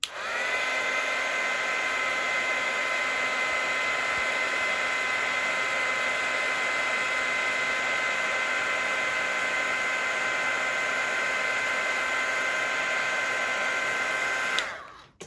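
A heat tool blows a steady, loud, unbroken whoosh while warming a toilet paper shaker ornament, running alone for about fifteen seconds before cutting off abruptly at the end.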